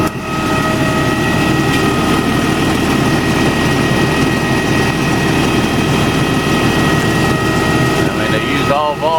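A Volvo 290CL excavator's diesel engine runs at a steady, loud drone with a constant tonal hum and no breaks, then a brief squeal near the end.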